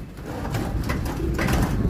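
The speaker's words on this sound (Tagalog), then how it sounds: "Tapos may napansin ako ditong isang ibon." A checkered racing pigeon in its loft gives low, soft cooing over a steady background of rushing wind-like noise.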